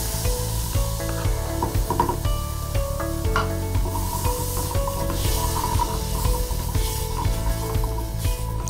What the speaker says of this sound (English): So let that simmer a bit and then add in the tomatoes.